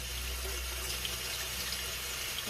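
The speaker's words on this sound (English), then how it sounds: "Let's give it a good wash" Running tap water splashing steadily as golden pothos roots with root rot are rinsed under the faucet, a continuous close stream with no talk.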